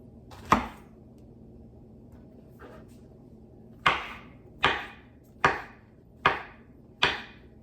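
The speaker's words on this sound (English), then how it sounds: "you want to cut it up into look-alike pepperoni slices" A knife cutting a meat alternative into pepperoni-like slices for a vegan pizza, sharp chops on a board: one early, then five evenly spaced strikes near the end, close and crisp in a quiet room.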